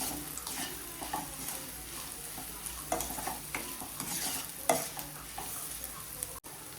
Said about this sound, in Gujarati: બધું સારી રીતે ચટણી અને શાકને મિક્સ કરી લેશું.